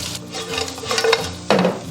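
Cumin-spiced lamb ribs are tossed in a pan with dry seasoning, making close scraping and stirring sounds with a light sizzle and a sharper clatter of utensil on metal near the end.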